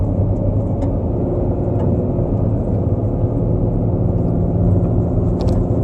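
A 2019 Ram Heavy Duty pickup towing trailers on a long drive, its engine a steady low rumble with the exhaust brake engaged as it downshifts, continuous and close inside the cab with no talk.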